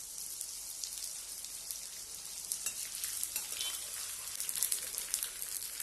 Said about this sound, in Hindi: इसी तरह से थोड़ा थोड़ा करके हम गोंद तलेंगे।